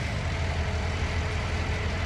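A tractor engine in Farming Simulator 19, with a Massey Ferguson weight fitted on the rear, drones at a steady low idle-like rumble, close and unbroken throughout.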